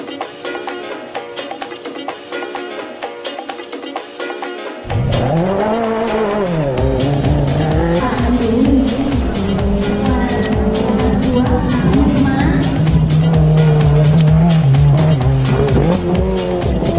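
A car drifts at a drift battle in Makassar, with loud sustained tire squeal and a revving engine. A rapid pulsing engine note comes first, then long wavering screeches run close and continuous for many seconds.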